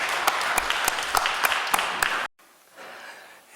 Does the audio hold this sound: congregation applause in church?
yes